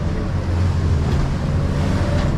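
Ocean waves and swell at the Westport bar crossing, a loud continuous rushing of water heard from a boat with heavy wind buffeting the microphone, with no talk.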